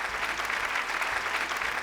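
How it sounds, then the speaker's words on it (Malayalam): A studio audience at a TV game show breaks into dense, sustained applause, a thick even wash of many hands clapping at once. "നല്ലൊരു കൈയടി."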